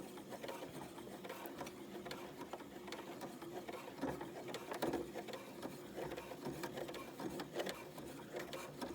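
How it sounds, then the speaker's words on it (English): A sewing machine stitches steadily through thick layers of fabric, a continuous close mechanical chatter with a regular rapid rhythm and slight thumps, running alone throughout at moderate loudness. "You'll notice if it hits a pin, the machine will make a weird noise."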